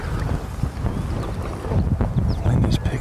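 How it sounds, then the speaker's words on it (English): Gusting wind rushes across an outdoor disc golf course at a 2002 tournament in Appleton, Wisconsin, a steady low roar and buffeting against the microphone, rising slightly toward the end. "Wind is picking up now"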